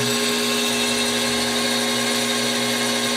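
A Bv20l metal lathe machines a nylon workpiece with a loud, steady whine and a constant hum of spindle tones, running alone without talk.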